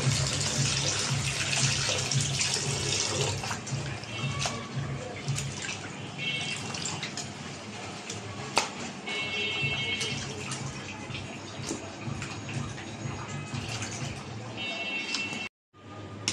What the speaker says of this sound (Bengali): এখন মরিচটা ধুয়ে নেব।